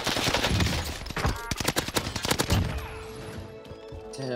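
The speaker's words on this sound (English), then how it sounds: "this Owen gun is hitting" An Owen gun fires in Call of Duty Warzone in rapid close bursts of automatic shots, loud and crackling, before tapering off into quieter game sounds.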